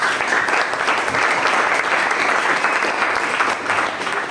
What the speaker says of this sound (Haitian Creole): Donc je vais demander nous pour l'applaudir s'il vous plaît.